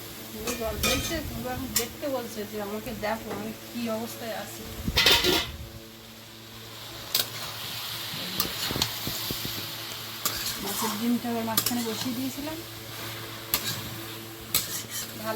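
Pumpkin curry sautéing in a pan, a sizzle broken by repeated scraping and clanking of a metal spoon against the pan, with occasional loud knocks and clatter near the mic.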